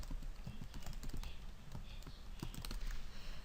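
Someone types a workspace name on a computer keyboard in Photoshop, with a steady patter of quick, close key clicks running throughout and no talking.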